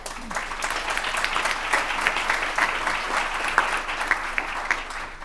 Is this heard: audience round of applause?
yes